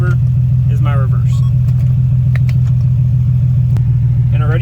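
A Nissan 370z idles steadily with a low, even engine hum close by, while someone talks over it in short bursts.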